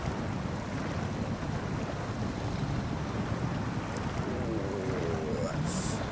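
In the SnowRunner video game, a truck wades slowly through deep water, giving a steady, dense sloshing and splashing wash with a low engine rumble underneath and faint higher tones near the end.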